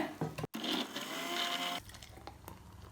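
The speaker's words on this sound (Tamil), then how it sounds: "இப்போ தேவையான அளவுக்கு எக்ஸ்ட்ரா பால் சேர்த்து மறுபடியும் ஒரு தடவை அடிச்சு எடுத்துக்கலாங்க" Electric blender whirring loudly as it blends mango and dry fruit milkshake with extra milk, a steady motor drone for nearly two seconds after a brief break, then winding down into softer rattling.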